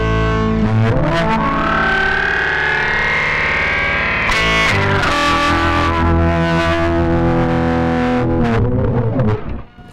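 Heavily distorted electric guitar run through effects pedals, with an octave layer, warbling swoops and wild, swirling noises that play loudly and continuously throughout.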